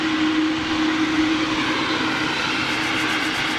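An Ilyushin Il-76 jet roars through its takeoff run, a loud, steady engine rumble with a sustained tonal whine that holds near and constant before easing slightly.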